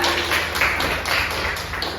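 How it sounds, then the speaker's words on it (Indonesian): Classroom students applauding a presenting group, a steady patter of many hands clapping at close range, fairly loud and continuous. "Kasih tepuk tangan dulu untuk kelompok 2"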